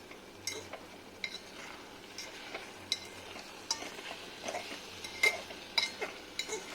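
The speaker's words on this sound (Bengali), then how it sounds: "তো আরেকবার আমি কাঁটা চামচটা দিয়ে ভালো করে নেড়ে নিচ্ছি।" A fork stirs a steamed ridge gourd dish in a pot, giving scattered light scrapes and clinks at an irregular pace over quiet background hiss. Nobody speaks.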